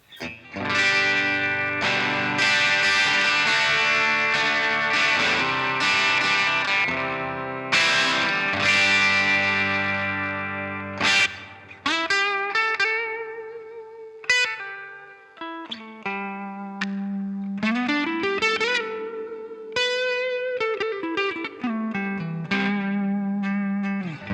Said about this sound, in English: here's the sound of just the guitar straight through.